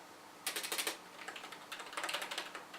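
Keys clack on a full-size Lexma LX 6000 budget computer keyboard in quick runs of light taps, close to the microphone over a faint background hiss, with pauses between bursts and no talking.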